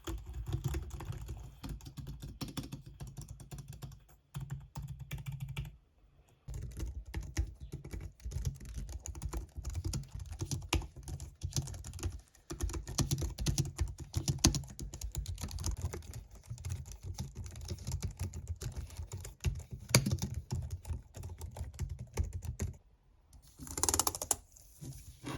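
Typing on a white Logi MX Keys Mini keyboard: a long run of soft, quick, close key taps in steady bursts, broken by a few short pauses, with no speech.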